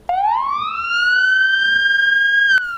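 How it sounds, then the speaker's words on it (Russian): An ambulance siren sounds loud and close, a single rising wail that climbs and then holds a steady high tone with strong harmonics. "Как альметьевские автомобилисты реагируют на спецсигнал неотложки"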